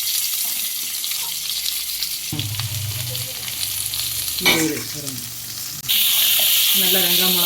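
Onions and chillies sauté in hot oil for tomato kurma, giving a continuous sizzle broken by scraping stirs and clinks, with the frying growing noticeably louder in the final seconds.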